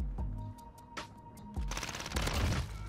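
CX-9 submachine gun fire in the video game Modern Warfare, with short rapid bursts of shots over continuous game noise, the firing growing denser and louder toward the end.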